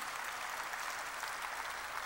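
A church congregation applauds in a steady, dense wash of clapping that stays even and fairly distant for the whole stretch, with no voices over it.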